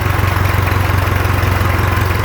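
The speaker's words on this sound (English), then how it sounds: "Well, it's idling." A 1966 John Deere tractor engine running on its first start in twenty years idles with a steady, loud, low throbbing pulse and even rhythmic chugging, close by and without talk.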